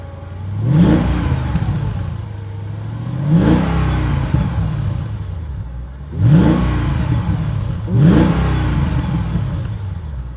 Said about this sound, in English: we should be able to rev out to red line